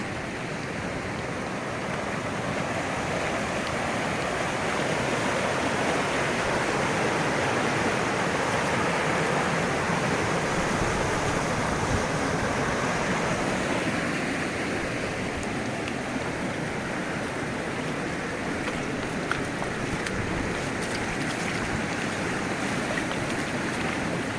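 Water flows steadily along a forested mountain hiking trail, a broad continuous rushing wash that stays even and fairly close for the whole stretch, with no talking.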